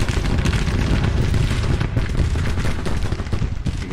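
Artillery and rifle fire from the Grand Tactician: The Civil War game, a dense, continuous rumble of booming cannon and crackling gunshots with no pause, heard alone.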